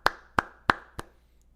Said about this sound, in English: Round of applause for ARK,